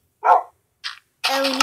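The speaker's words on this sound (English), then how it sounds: "Hey! A doggy! Aww, you're so cute!" A Minecraft dog lets out two short, clear synthetic bark-like yips, followed by a brighter, tonal whine-like sound, each separated by silence.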